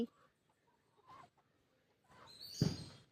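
A few faint, scattered chicken clucks in a quiet setting, ending with a louder rough burst of sound.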